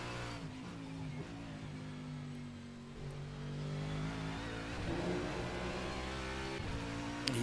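A WorldSimSeries car on the final lap of the Sebring 12 Hours in a sim racing game, its engine droning steadily with shifting pitch and a rise in intensity midway, at moderate level with no talk.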